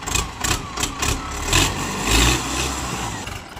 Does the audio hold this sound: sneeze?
no